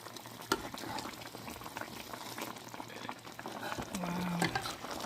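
Chicken hamonado sizzles and bubbles in a pan, a steady close crackle of sauteing with stirring, and a brief faint tone near the end.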